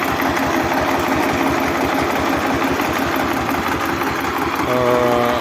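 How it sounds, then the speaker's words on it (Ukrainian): A Lider 220D tractor engine runs close up with a loud, steady chugging rhythm, a mechanical whine joining toward the end. "послухайте, як трактор працює"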